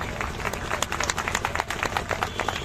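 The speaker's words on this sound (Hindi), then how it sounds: "बजाकर तालियां उनका जरा सम्मान कर देना" Audience clapping in honour of martyred soldiers at a Hindi poetry recital, a dense, steady patter of many hands close and fairly loud throughout.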